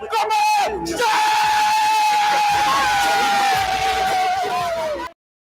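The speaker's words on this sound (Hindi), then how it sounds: "जोरदार शोर के साथ, जोरदार तालियों के साथ" A crowd at a company's tenth anniversary celebration cheers and whoops loudly over a long sustained tone, with voices yelling through the noisy hall before the sound stops suddenly.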